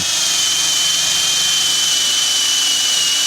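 A wire brush, likely drill-driven, scrubs rust from a clamped axe head, making a continuous, loud, high-pitched whirring hiss that stays steady from start to finish with no pauses.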